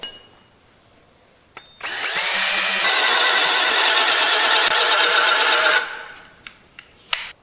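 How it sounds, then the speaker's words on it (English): A power drill runs steadily for about four seconds, boring through wood up close, with a few light clicks and taps before and after. "drill a straight hole"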